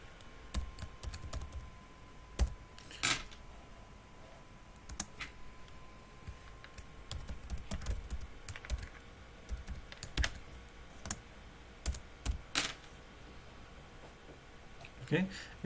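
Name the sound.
typing code on a computer keyboard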